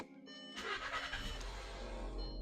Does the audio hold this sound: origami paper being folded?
no